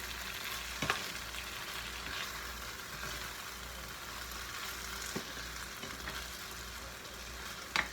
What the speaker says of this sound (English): Now I'm just going to mix everything together one more time.